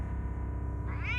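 A single cat meow used as a sound effect in a haunted village house ghost story, short and clear, rising at the end over a low droning background tone.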